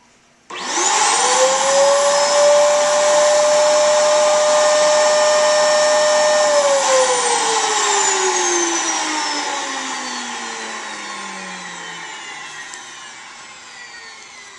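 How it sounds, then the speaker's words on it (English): A loud electric vacuum pump whines into life abruptly, holding a steady high drone before winding down with a falling pitch as it slows. "So you won't be able to hear me once we start the vacuum"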